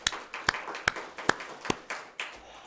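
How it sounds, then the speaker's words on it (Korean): A church congregation claps in encouragement for a member, a few sharp close claps standing out over softer scattered clapping in a loose, slightly uneven rhythm that fades toward the end. "표원영 권사님 박수로 격려하겠습니다."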